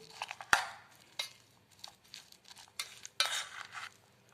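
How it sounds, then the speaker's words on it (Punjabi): Spoon scraping and clattering against a bowl while vegetables are mixed with salt and red chili powder, a series of sharp, close clinks and soft stirring scrapes at an uneven rhythm. "ਹੁਣ ਇਸ ਨੂੰ ਚੰਗੀ ਤਰ੍ਹਾਂ ਮਿਕਸ ਕਰ ਲੈਣਾ ਜੀ"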